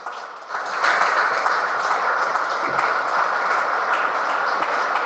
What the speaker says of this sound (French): Applaudissez le Dieu de gloire.